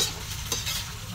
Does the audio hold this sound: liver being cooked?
yes